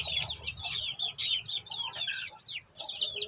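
A black Shamo Asil hen brooding among other chickens, with soft clucks and high chirps that overlap continuously at moderate volume and nearby, with no voices.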